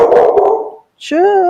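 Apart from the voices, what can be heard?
dog barking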